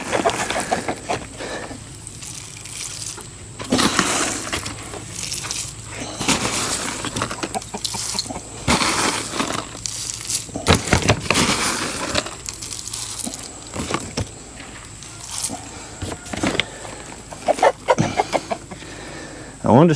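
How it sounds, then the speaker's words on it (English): The neighbour's backyard chickens clucking in the background, intermittent clucks and scratchy rustles heard throughout alongside other close handling noises, no talk. "The neighbor has chickens."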